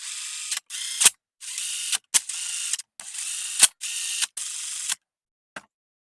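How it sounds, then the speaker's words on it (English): Ratcheting wrench tightening bolts on a Lawn-Boy mower with a Kohler engine, heard as a run of close, crisp clicking bursts, each a second or so long, with short pauses between and a few sharper knocks mixed in. "let's get the bolts back on. These get torqued to 9 foot-pounds"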